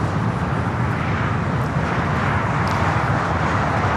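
An Alaska Airlines airplane at LAX, heard as a steady, loud jet roar with broad rushing noise that holds constant throughout, distant traffic hum underneath.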